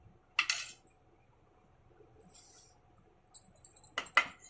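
A small spoon clinks against a container while a homemade cough remedy is measured out, giving a short metallic tap near the start and a couple of clustered clinks near the end, close and fairly quiet.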